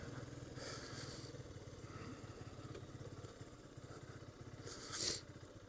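A Yamaha FZS 150 motorcycle on a mountain road near Pokhara, Nepal idles close by with a steady, low, even putter, joined by a brief scrape or clatter near the end.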